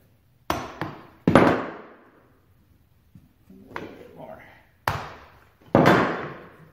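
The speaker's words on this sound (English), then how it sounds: "Get my hammer so that I can tap that into place." A smooth-faced hammer taps lumber into place during a wood distressing job: about five or six sharp, close knocks in irregular clusters, each ringing briefly, with quiet gaps between them.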